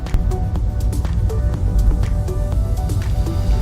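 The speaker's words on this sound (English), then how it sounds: "Sorry about the wind, guys. It's a windy day" Steady low rumbling buffets of wind hitting a microphone, loud and continuous, with faint clicks and drips scattered through.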